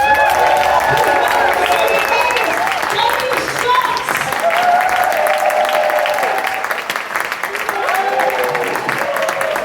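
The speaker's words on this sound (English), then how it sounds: "On the count of 3, you know what to do. 1, 2, 3, start clapping!" Audience at a comedy club in Teignmouth clapping and cheering loudly and steadily throughout, with a voice talking over the crowd noise.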